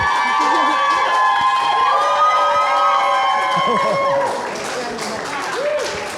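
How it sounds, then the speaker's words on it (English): An audience at an Open House For Good talk event applauds and cheers for a speaker taking the stage, crowd noise and whoops swelling early. Tonal music runs underneath, then the applause thins out toward the end. "Give Suhanna a big round of applause here."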